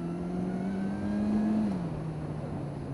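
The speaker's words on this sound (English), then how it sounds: "I'm already over revving it," A 2013 Honda CB400 Super Four four-cylinder motorcycle engine held at high revs while riding, a steady whining drone that climbs slightly and then drops, continuous for three seconds with no talk.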